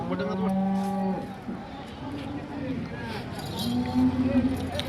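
Cattle at a rural cattle market low and moo in two long, drawn-out calls, one early and one near the end, with a calf among them, over a busy background of crowd chatter and market noise.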